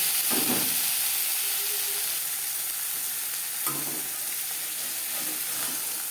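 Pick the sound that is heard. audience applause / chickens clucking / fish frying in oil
fish frying in oil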